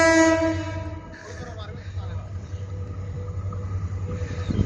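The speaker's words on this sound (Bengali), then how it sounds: "আজকে সরাসরি রেল চলে আসতেছে, দেখেন।" A train approaches on a railway line, opening with a loud horn blast that gives way to a steady low rumble of wagons rolling past, with faint talk in the background.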